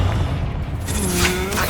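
A Confringo explosion spell in the video game Hogwarts Legacy bursts with a loud, deep boom and whooshing rumble, followed by a ringing, rising magical tail.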